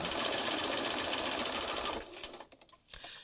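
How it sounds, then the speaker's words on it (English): A sewing machine zigzag stitching runs in a fast continuous whir for about two seconds, then stops, leaving a few faint clicks and a short burst. "I'm going to just kind of give it a little zigzaggy kind of with my sewing machine"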